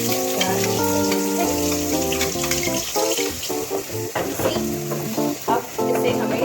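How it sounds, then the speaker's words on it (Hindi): A paste of onion, mint leaves and green chilies sautéing over a flame, with a loud, steady sizzle and stirring scrapes, while tonal background music plays underneath throughout. "थोड़ा सा इसको बस सॉटे कर देंगे हल्का सा"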